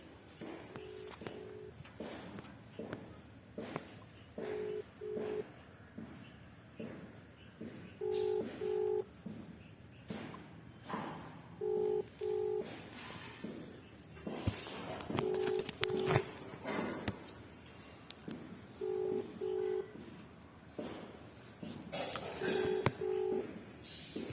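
Short paired telephone keypad tones repeat every few seconds over background noise and muffled movement, like a number being dialed again and again.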